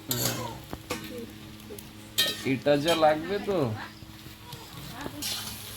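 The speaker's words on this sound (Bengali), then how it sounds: "আলুটা লাল লাল ভাজা হয়ে গেছে" Potatoes fry in a pan with a soft sizzle and occasional clinks and scrapes of stirring, while people talk over it.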